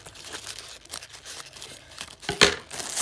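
Tearing open a taped package by hand, close crinkling and ripping of tape and wrapping that builds to a louder tear near the end.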